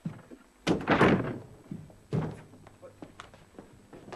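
A locked door is forced in: two heavy, close thuds about a second and a half apart, followed by quieter knocks and shuffling.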